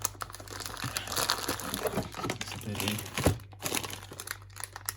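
A plastic parts bag from a Tamiya Super Storm Dragon kit crinkles and rustles up close in bursts as it is handled, while someone talks over it.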